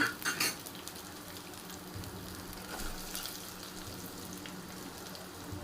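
Onion fries in a pan for potato curry, giving a soft, steady sizzle close by, with a few utensil stirring scrapes near the start and no voices.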